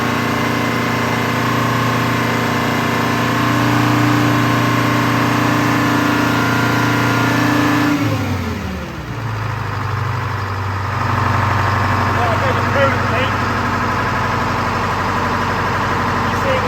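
The Detroit diesel engine of a Wagner W4 loader runs loud and close with a deep steady rumble, then drops to a lower idle partway through and keeps chugging.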